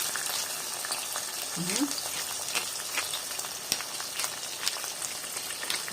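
Eggs frying in a pan while being stirred, a steady crackling sizzle with scattered sharper pops, moderately loud and close, with a brief voice sound partway through.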